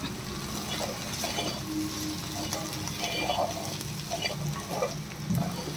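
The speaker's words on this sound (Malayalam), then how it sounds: "കുറച്ച് നേരം അങ്ങനെ ചട്ടിയിലിട്ട് ഇളക്കുക" Okra being stirred with fried coconut in a pan, a continuous sizzle with intermittent scraping and clinks of the spoon against the pan, close and steady.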